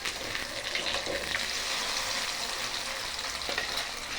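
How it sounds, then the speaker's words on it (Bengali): Paneer pieces fry in hot, lightly salted oil in a wok, giving a steady, dense sizzle that stays loud and even throughout with no talking. "পনিরগুলো টুকরো টুকরো করে নিয়েছি, সেগুলোকে ভেজে নেব"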